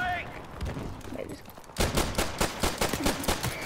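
Sniper rifle shots in the video game Call of Duty: Modern Warfare, a series of sharp, evenly spaced gunshots in the second half, preceded by quieter game sounds and faint talk.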